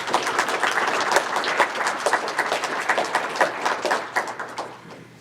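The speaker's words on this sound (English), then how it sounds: "So let's give a nice round of applause for UFD for investing in our state." Audience at a public awareness meeting on a gigabit broadband rollout in Hanover, Pennsylvania, applauding in a steady wash of many hands clapping, fairly close, tapering off toward the end.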